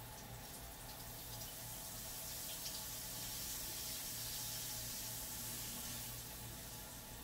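Water poured into a pan for smothered sirloin chop gravy, a steady continuous running and sizzling wash that swells slightly in the middle, close and fairly quiet with no voices.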